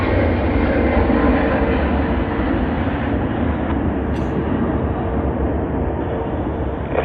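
A LOT Airlines airliner at Sydney Airport gives a steady, loud broadband engine roar that holds evenly throughout, with no voices over it.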